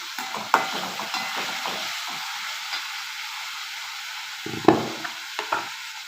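Masala chickpeas cook in a pan with a soft ongoing sizzle, broken by scraping stirs and a few sharp clinks of a spoon against the pan.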